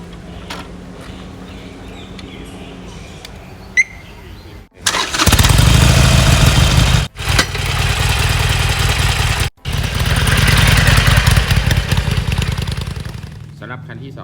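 A Triumph Bonneville Speedmaster 1200cc motorcycle engine cranks and fires up after a quiet start, then idles loudly and roughly with a few revs and brief cut-outs.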